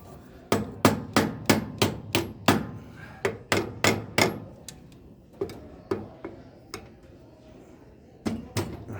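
A screwdriver used as a makeshift hammer taps a key into the idler pulley of a GS-98 bowling pinsetter. Sharp metallic knocks come in quick bursts of several strikes, separated by short pauses, close and fairly loud.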